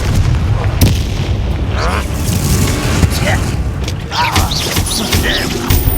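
Confringo spell blasts in Hogwarts Legacy, a string of loud booming explosive bursts layered over dense battle noise, with voices shouting through the fight.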